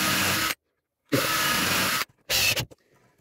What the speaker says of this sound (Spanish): Vamos a atornillar, de acuerdo, el marco.